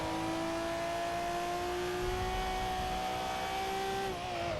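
Engine of a Toyota Supra or Nissan R34 Skyline in Forza Motorsport 6, a loud steady drone holding pitch while braking into a corner, then dropping and fading near the end.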